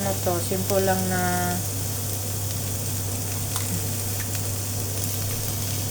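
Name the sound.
eggs frying in a pan for fried rice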